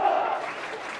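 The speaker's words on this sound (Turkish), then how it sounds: "Pembeşilli taraftarların yoğun desteği var. Tezahüratlar sizlere kadar" Fans of Isparta's pink-and-white side make a crowd noise in the stadium during a football match, a loud swell at the start that fades to a steadier background murmur.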